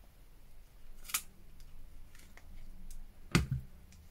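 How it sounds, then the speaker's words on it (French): A Crop-a-Dile punch bites small holes into a fabric label, giving two sharp, isolated clicks spaced about two seconds apart, close and crisp over a quiet room. "je vais utiliser la Crop and Dial. Et après, on vient faire des petits trous."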